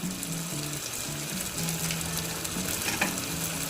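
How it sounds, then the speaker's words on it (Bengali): Turmeric, Kashmiri chili powder and salt sizzle steadily in a hot pan while being stirred for paneer butter masala, a continuous soft frying hiss with occasional light scrapes, no voices. "মশলাটা ভালোভাবে কষিয়ে দিই"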